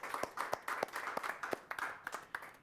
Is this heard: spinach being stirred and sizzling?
no